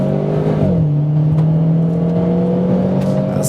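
A 2013 Renaultsport Clio launching hard from launch control, its engine note dropping briefly as it gets off the line and then rising in a loud, continuous climb under acceleration, heard from inside the car with no talking.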